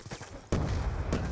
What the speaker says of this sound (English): Grenade, get out of there!